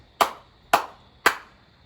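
Three loud, sharp hand claps land close up in an even rhythm, each a crisp snap with a short decay, separated by near silence.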